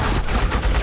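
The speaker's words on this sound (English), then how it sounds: "Suppressing fire." Suppressing gunfire in Batman: The Enemy Within roars as a dense, loud, continuous burst of rapid shots with no gaps, over a short stretch.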